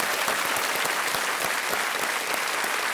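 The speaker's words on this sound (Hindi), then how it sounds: "बहुत बहुत स्वागत आपका, तालियों के साथ आपका" A studio audience at the Kaun Banega Crorepati quiz show applauds to welcome a contestant's parents: a dense, steady wash of many hands clapping together, loud and sustained for the full stretch with no voices on top.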